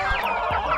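Rhode Island chickens, kept with native chickens in one coop, give a few quick, close clucks in a brief, busy burst.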